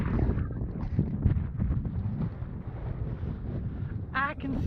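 Steady wind buffets the microphone atop a chilly mesa lookout in northeast Utah under threatening rain, a continuous rumbling rush with gusts and brief talk partway through.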